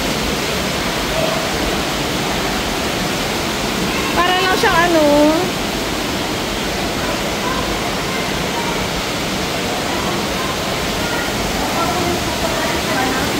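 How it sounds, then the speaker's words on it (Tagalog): Strong water rushes steadily inside the St. Beatus Caves in Switzerland, a loud continuous roar filling the cave, with a brief voice speaking over it partway through. "Ayan. Ang lakas ng tubig."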